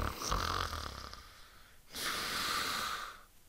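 A storyteller voices an old witch falling asleep, imitating loud snoring in two long snorting breaths up close, with a brief pause between them.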